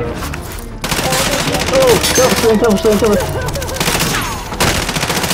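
Rapid bursts of gunfire in a battle royale video game crackle loud and near through the whole stretch, with excited players talking over the shots.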